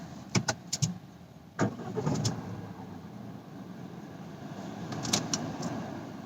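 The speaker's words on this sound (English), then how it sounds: "So I'm just going to start this engine" A Tata Harrier engine cranks and catches after a few clicks and clunks, then settles into a quiet, steady idle nearby.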